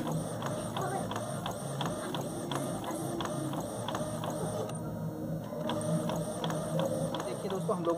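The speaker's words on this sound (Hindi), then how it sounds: "सब्लिमेशन इंक की सहायता से हम लोग फटाफट पहले इसका प्रिंट निकाल लेते हैं कुछ इस तरीके से" An inkjet printer loaded with sublimation ink printing onto sublimation paper, a steady mechanical whirring with rhythmic clicks and a brief pause midway, running under continuous talk.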